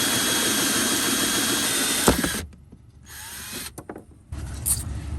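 A power drill bores a hole through a van wall, a loud close whine that runs steadily, then cuts off and restarts in short bursts.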